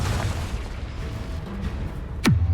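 A spell explosion in Hogwarts Legacy rumbles with a low sustained roar and crackle, then a sharp whooshing burst near the end drops into a deep booming tail.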